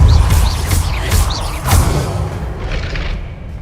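A Depulso force spell impact in Hogwarts Legacy: a series of heavy thuds and booms with whooshing bursts, loud and close at first, fading over the last second.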